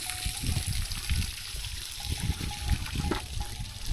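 Water in a clear reservoir trickles and splashes steadily up close, a soft continuous flow with low gurgling pulses and no talk.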